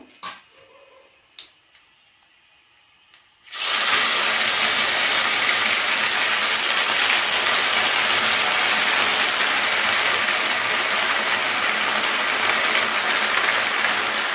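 Ginger garlic paste hits hot oil with whole spices for an egg korma, bursting into a loud, steady hiss of sizzling after a few soft clinks of utensils, with no talk, close and continuous.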